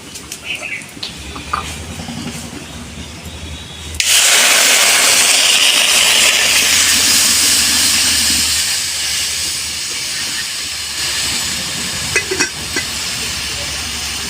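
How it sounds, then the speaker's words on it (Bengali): Water poured into a hot pan of lightly fried lentils, bursting into a loud, sudden steaming hiss that stays strong and slowly settles after a few quiet kitchen sounds. "ডালটা আমি হালকাভাবে ভেজে নিয়েছি, এবারে জল দিয়ে দেবো।"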